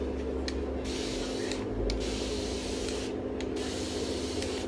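Water is sprayed from a spray bottle onto a painted canvas, heard as bursts of soft hissing spray with short pauses between them over a steady background hum.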